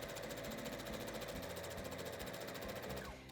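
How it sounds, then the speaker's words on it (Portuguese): A sewing machine runs continuously at high speed, sewing a seam all the way around a piece, a steady rapid whirring chatter close by that stops just at the end. "Porque aqui eu vou fazer uma costura tudo em volta,"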